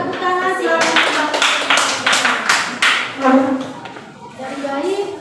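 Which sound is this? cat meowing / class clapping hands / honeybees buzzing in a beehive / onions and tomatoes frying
class clapping hands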